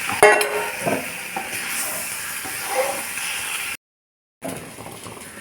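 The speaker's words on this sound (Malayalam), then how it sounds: "കുറച്ച് ഉപ്പും കൂടെ ഇട്ട് ഇളക്കി" A tomato and onion masala, with salt added, stirred in a hot pan, making a steady sizzle and hiss under scraping strokes, followed by a brief dead gap and then renewed sizzling.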